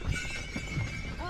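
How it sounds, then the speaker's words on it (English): Draft horses pulling a sleigh let out a brief neigh over a steady outdoor rumble, with a rising whinny-like squeal near the end of the short moment. "What breed of horse are these?"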